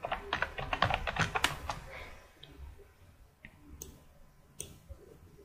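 Someone types a command on a computer keyboard, a quick close burst of clicking keystrokes followed by a few sparse single key taps in a quiet room.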